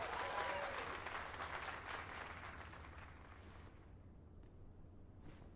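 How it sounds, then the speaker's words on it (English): Applause from a crowd in a video game, steady and dense, gradually fading toward the end. "Let us give a round of applause for young Fulvio"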